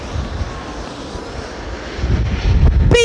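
A British Airways Boeing 787-10 airliner at London Heathrow gives a steady, loud roar of engine noise that swells slightly toward the end, heard from the spotting position with no talking.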